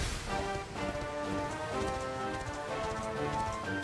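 Steady clip-clop of horse hooves in Dragon Quest XI over a bed of game music, continuous and fairly even in rhythm throughout.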